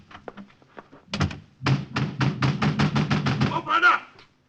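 A cellar door in a 1950 Cloak and Dagger radio drama thuds shut, followed by a rapid run of close, evenly spaced knocks and thumps, with brief voices before and after.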